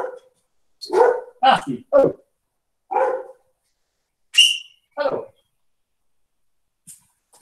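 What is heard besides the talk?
dog barking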